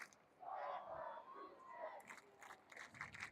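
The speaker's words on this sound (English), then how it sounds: "Crowd is fired up right now" Stadium crowd at an amputee soccer match between New England and MetroNY at Gillette Stadium, a swell of cheering and shouting rising and holding, then broken into bursts of yells and claps.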